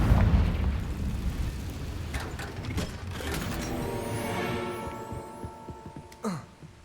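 Confringo blasting spell in Hogwarts Legacy, a booming explosion at the start fading into mechanical clanking and ratcheting tones, with a sharp whooshing burst near the end.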